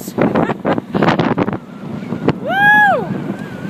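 Strong wind buffets the microphone aboard a sailboat on choppy open water, loud gusty rushing with waves behind it, and a short, rising and falling whistling tone near the end.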